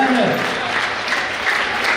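An audience claps at a community Navratri dandiya event, producing a dense, continuous burst of applause close by, with a voice speaking over the clapping.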